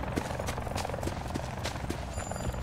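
A helicopter's rotor chops in a steady pulsing beat over Call of Duty Black Ops 4 Blackout, mid-distance and continuous beneath scattered game noise.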